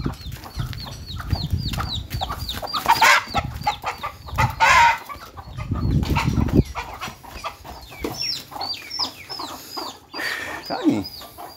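Rooster on a farm clucking and squawking repeatedly in quick agitated bursts while someone tries to catch it, with loud rustling and scuffling close by and brief human sounds.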